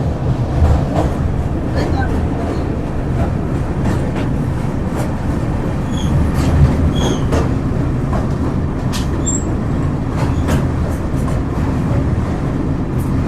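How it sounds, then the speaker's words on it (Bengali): An inaugural Humsafar Express train running over the Nasipur rail bridge above the Bhagirathi river, a loud steady rumble with rhythmic clatter throughout, heard from on board, with faint talk in the background. "ট্রেন ফার্স্ট চলছে মসিপুর রেল ব্রিজের উপরে"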